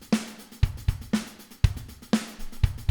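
A programmed virtual drum beat plays a steady, simple pattern of kick and snare hits under ticking hi-hats with varied accents, close and clear, with no talking.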